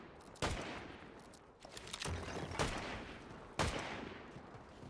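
Gunshots ring out in a Fortnite Chapter 5 trios match, three sharp loud reports spaced a second or so apart over a rumbling, noisy game background.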